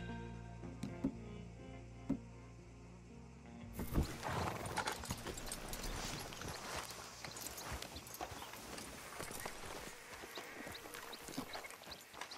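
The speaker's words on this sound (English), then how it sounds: "Heard you got some horses." Horses in the video game Red Dead Redemption 2 clop their hooves in a steady walking rhythm, faint and close, with a brief whinny among the hoofbeats over a low ambient bed.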